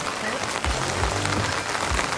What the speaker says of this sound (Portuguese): Uma chuvinha maravilhosa